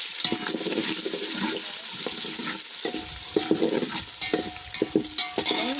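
Onions sautéing in oil for chicken biryani make a steady close sizzle, broken by scraping stirs and clinks from a spatula against the pan.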